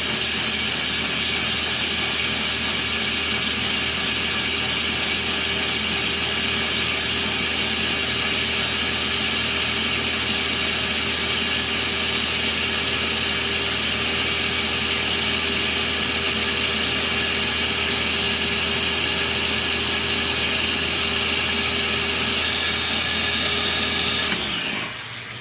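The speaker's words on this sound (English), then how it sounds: "I'm going to puree that." A blender purees soaked cashews with vegetable broth, garlic, Italian seasoning and nutritional yeast, running at a loud, steady high-pitched whir for about 25 seconds before spinning down at the end.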